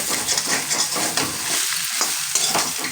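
Fried potatoes sizzle loudly in a pan as spice-bowl rinse water is poured in and the mix is stirred, giving a constant frying hiss with irregular scraping stirs on top.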